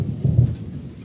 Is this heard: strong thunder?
yes